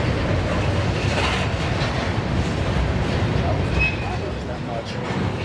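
A passing train near Homewood, Illinois on the CN line, a steady broadband rumble with rail noise held loud and constant throughout, with people talking over it.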